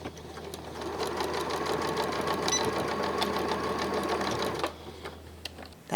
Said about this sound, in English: with a little bit of sewing on a sewing